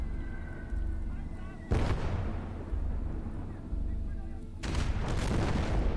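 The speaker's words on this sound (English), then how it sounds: "Oh, we've got a mortar." Mortar rounds firing and landing in the World War II game Call to Arms Gates of Hell: Ostfront, Germany versus USSR at a steelworks, two heavy booming blasts over a low rumbling battle bed.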